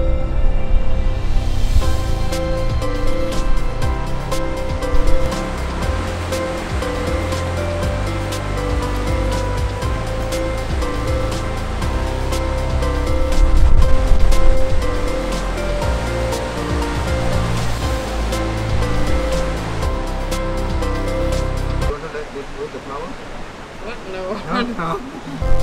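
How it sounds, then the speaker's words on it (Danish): Waves of the Indian Ocean crash and roar continuously, loud and broadband, swelling around the middle before the surf drops away near the end. "Her det er det indiske ocean."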